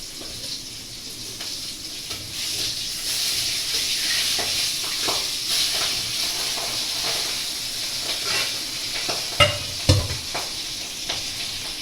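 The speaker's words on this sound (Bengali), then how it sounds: "এখন দেখো মাছটাকে ভেজে নেবো" Rohu fish fries in a pan with a steady, loud sizzle and hiss, broken near the end by a few sharp spatters and clinks of stirring.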